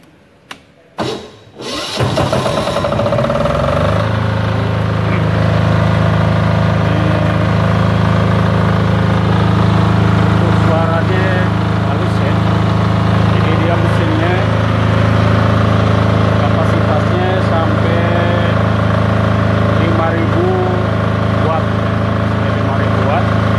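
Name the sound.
generator (genset) starting and running, for welding machines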